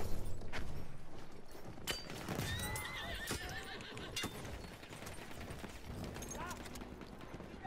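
A horse in the video game Battlefield 1 whinnies loudly and its hooves clip-clop at a gallop, with gunfire and battle noise around it throughout.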